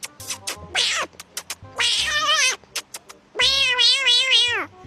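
A man imitates the sound of a kitten nursing from its mother, a close, loud run of squeaky mewing cries and short chirps, some long and wavering, with brief pauses between.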